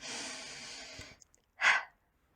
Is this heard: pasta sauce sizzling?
no